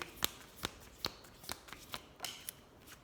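Tarot cards are shuffled by hand in a quick run of crisp riffling flicks, about seven sharp bursts in a loose steady rhythm, close and quiet with no talk.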